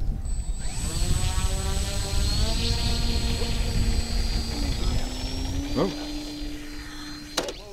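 The engine of a light plane with a stick control roars close and steady as the throttle is advanced for takeoff, its droning pitch climbing gradually, with voices talking faintly over it.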